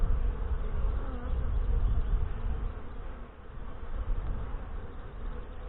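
Saskatraz honey bees buzz steadily and densely around an open brood box during a hive inspection in northwest Wisconsin, a close, continuous droning swarm with no voices.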